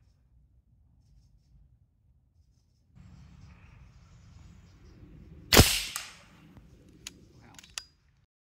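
A 100 ft-lb .30 caliber Alpha Wolf air rifle fires a single sharp, loud crack after some quiet mechanical handling noises, followed by a brief decay and a few small clicks.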